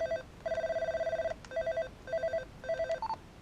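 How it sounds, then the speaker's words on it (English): A Motorola TLKR T80 PMR446 walkie-talkie plays a ringtone: bright electronic beeps in rapid trills and short bursts, with brief gaps between them, ending on a higher tone. The sound is close and clear with no talk. "10 different ringtones"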